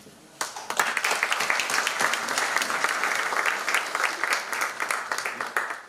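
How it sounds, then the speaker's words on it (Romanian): Warm applause from an audience at a church-hosted talk on Plato and Paul, starting abruptly and continuing as dense, lively clapping with sharp individual claps throughout. "Mulțumesc foarte mult pentru aceste călduroase aplauze"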